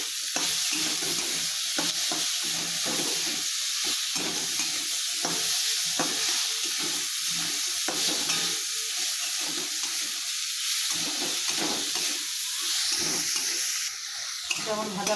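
Chopped tomato and green chilli fry in a pan for a snail and poppy-seed curry, with a steady loud sizzle and repeated stirring scrapes throughout and no talk.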